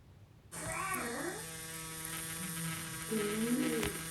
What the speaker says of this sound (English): You can definitely tell by the sounds of the gun that I'm going way too deep in some of this.